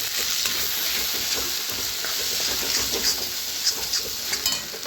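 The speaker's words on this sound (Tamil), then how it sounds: "நல்லா கொஞ்சம் ஃப்ரை ஆகிடுச்சு இப்போ நம்ம ஃபுல்லாக அப்படியே மிக்ஸ் பண்ணி விட்டுக்கலாம்" Broccoli stir-frying in a pan over medium heat, a steady bright sizzle running throughout, with scattered clicks and scrapes of the stirring utensil against the pan, close and fairly loud with no voices.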